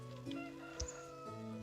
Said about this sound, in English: And I hear you also, chicken.